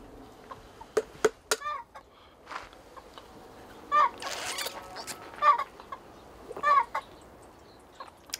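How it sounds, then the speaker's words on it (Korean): Startled farm chickens cluck and squawk in several short, sharp bursts spread across a quiet yard, fairly close, with a few softer clucks between. "닭이 놀랬어."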